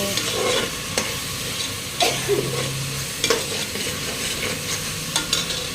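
Tomato paste being stirred into biryani masala in a pan for chicken biryani, with a spoon scraping and clacking at steady intervals over a low continuous sizzle, close and fairly loud, no talking.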